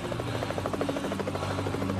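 A helicopter flies overhead, its rotor producing a loud, rapid steady chop that persists throughout.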